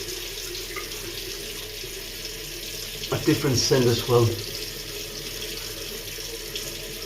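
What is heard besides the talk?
water running from tap while wetting the face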